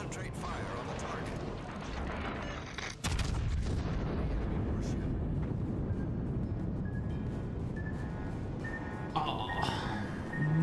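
Naval artillery fire in a warship video game, with heavy booming salvos and mechanical rumble forming a dense, loud, continuous barrage, followed by whining, ratcheting turret and gear noises.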